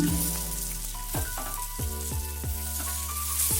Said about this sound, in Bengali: দুই টেবিল চামচ সর্ষের তেল দিয়ে বেগুনগুলোকে ভেজে নিচ্ছি।